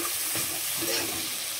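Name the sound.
spice paste (masala) frying in oil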